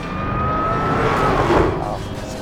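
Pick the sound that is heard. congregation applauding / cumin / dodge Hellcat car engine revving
dodge Hellcat car engine revving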